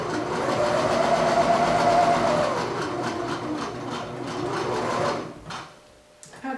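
A sewing machine stitches a French seam on a gingham ruffle top, running in a steady close whir for about five seconds before slowing and stopping, followed by faint handling noises.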